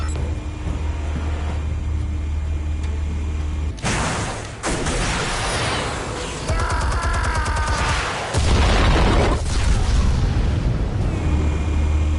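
Explosives detonating in a PS4 video game: a loud blast followed by rumbling debris and crackling bursts, a second heavy boom later, all over a steady low background drone.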